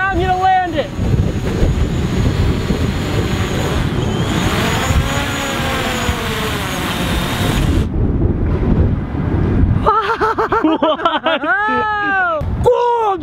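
Strong wind rushes and buffets the microphone outdoors as a DJI Mavic Pro drone comes in to land, and near the end the motors give rising and falling whines.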